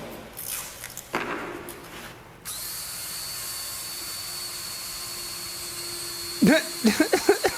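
A power drill whines at a steady pitch for several seconds after some rustling, followed by a burst of short, pulsing drill revs.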